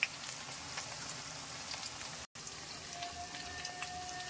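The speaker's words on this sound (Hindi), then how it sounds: "देखिए मैं जीरा डाल रही" Cumin seeds sizzle in hot oil in a pan while spinach is being cooked, a soft, steady crackling hiss with scattered tiny pops, fairly quiet and continuous apart from a brief cut of silence midway.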